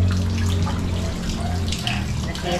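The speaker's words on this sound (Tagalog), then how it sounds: "Ito may tulo pa dito." Water leaks and trickles steadily into a flooded home during a typhoon, a close, continuous splashing stream with people talking over it.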